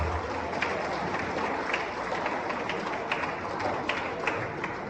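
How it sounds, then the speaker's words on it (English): A hall of standing students at a leadership training applauds themselves with steady, dense clapping that holds evenly at moderate distance, some sharper individual claps poking through the wash. "Clap for yourself."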